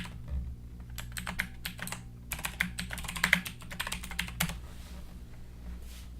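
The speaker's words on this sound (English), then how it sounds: "Just type in" Steady keystrokes tapping on a computer keyboard while entering login details, close and fairly quiet over a low constant hum, with no talking.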